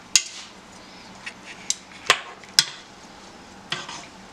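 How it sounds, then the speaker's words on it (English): Zucchini noodles being stirred in a pot for ramen, a few sharp metallic clinks and taps of a utensil against the pot over a faint background hum, close and sparse, no talking. "And mix it."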